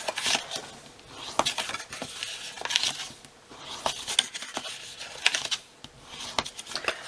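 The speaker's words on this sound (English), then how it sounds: "So now you're going to fold and burnish on all your score lines." Scored cardstock for a treat box being folded and burnished along its score lines, a series of close crisp creases, taps and papery scrapes in uneven bursts, with no voices.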